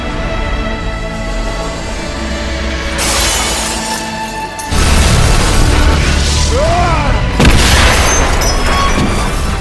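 A loud movie explosion as a character blows himself up together with a mutant, a sudden shattering blast followed by a second heavy boom and sustained rumbling debris.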